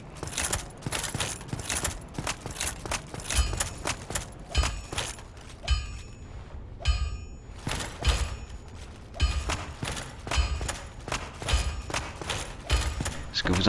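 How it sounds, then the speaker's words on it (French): Repeated metallic clanks and thuds ring out in an irregular rhythm, like hammer blows on an anvil, moderately close with a few short pauses. "Ce que vous entendez là, c'est le forgeron qui est tout en bas."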